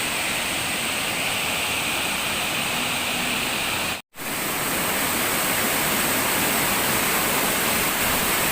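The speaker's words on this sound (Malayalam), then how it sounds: "ഈ വെള്ളം മുകളിൽ നിന്ന് ഇങ്ങനെ ഒലിച്ച് ഇങ്ങനെ വരികയാണ്. പാറയുടെ മുകളിലൂടെയാണ് വെള്ളം പോണത്" Water pours down over rocks at a waterfall in Oliyarukku, Anchal, making a loud, steady, close rushing roar that cuts out for a split second midway before resuming.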